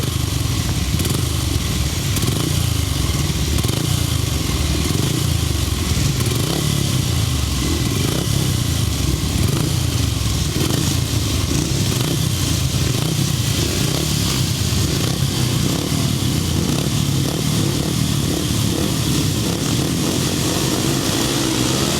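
A heat of upright grasstrack racing motorcycles at the 2009 Fenland Trophy meeting fills the air with a loud, continuous blend of buzzing, revving engines that rise and fall as the bikes circle the track.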